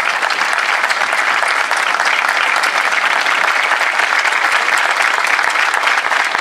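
Dense, loud, sustained applause from a crowd at a 25 de Mayo civic ceremony, even and unbroken throughout.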